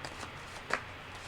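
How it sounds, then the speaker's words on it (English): Tarot cards being shuffled and riffled by hand, soft papery flicks with one sharper snap in the middle, close and quiet with no talking. "I am going to give it one more shuffle and one more rifle"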